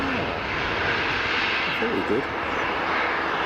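A landing aircraft at London Stansted Airport, with its thrust reversers on, makes a loud, steady rushing roar; a short spoken remark sits over it.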